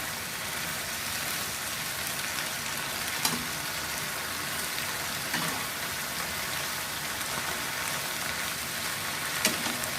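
Flower onions and marinated pork stir-frying in a pan, a steady loud sizzle that carries throughout, with a few brief clinks of a utensil against the pan.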